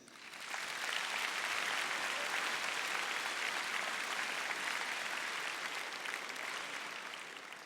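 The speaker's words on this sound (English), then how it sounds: "Round of applause, please" Sustained applause from a large audience at a Port Huron High School commencement, honoring the school board; dense, steady clapping fills the space from start to finish, swelling quickly and easing slightly at the end.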